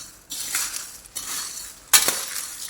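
Fasting chivda is tossed and stirred in a pan, three separate bursts of dry rustling and scraping, each starting sharply and fading, close and fairly loud.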